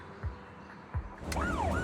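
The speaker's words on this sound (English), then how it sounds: "a PubSec car hurtles down the street, siren blaring" Wailing police siren from a PubSec patrol car in Zenless Zone Zero kicks in near the end, sweeping up and down loudly after a couple of soft thumps.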